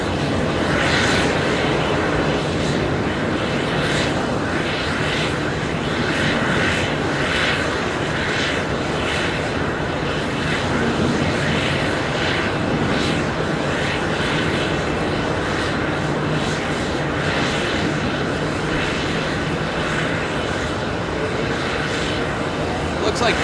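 A jet airliner taxis at JFK airport, its engines making a sustained loud roar with a rising and falling whine, heard from a plane-spotting position with a person talking over it.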